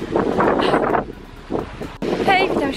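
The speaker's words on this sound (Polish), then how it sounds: "dlatego że wieje wiatr i w ogóle są fale" Gusty wind buffets the microphone in bursts, with sea waves washing in the background at the seaside while a person talks.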